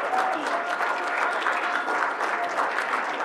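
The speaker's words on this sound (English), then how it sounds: "Let's give John a round of applause" A school board business meeting audience gives a warm round of applause for John Pavone, sustained even clapping from a roomful of people with faint voices mixed in.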